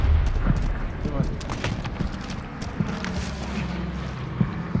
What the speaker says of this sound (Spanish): ¡Bombardeo en camino! ¡No mames! ¡Ah, bombardero!